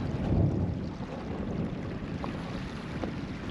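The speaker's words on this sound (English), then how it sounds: "Fair bit of wind as well and cloud cover." Wind blowing at a coastal caravan campsite on Milligan Island in Australia, a low continuous rumble buffeting the microphone with gusty swells and no talk.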